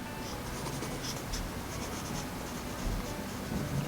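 Pencil shading on paper while drawing a bee, a soft continuous scratchy rasp of graphite strokes, close and quiet, steady throughout with slight swells, no voices.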